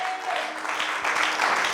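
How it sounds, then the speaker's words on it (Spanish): A church congregation applauds during a Spanish-language sermon, a steady wash of many hands clapping at moderate volume throughout, with faint voices mixed in. "Denle un aplauso al Señor."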